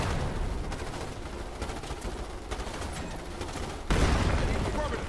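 Rapid automatic gunfire in Starship Troopers Terran Command, a dense, continuous rattle of shots with a heavier burst near the end, voices faintly mixed in.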